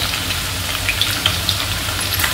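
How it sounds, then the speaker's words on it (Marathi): Finely chopped ginger and garlic sputter in hot oil over a high flame, giving a dense, even sizzle close by with small crackles and pops scattered through it. "तेल चांगलं तापलेलं आहे, तर ह्याच्यामध्ये मी आता आलं आणि लसूण जे बारीक चॉप केलेलं आहे"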